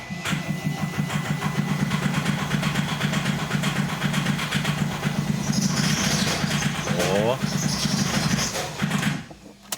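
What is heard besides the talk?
diesel engine starting and idling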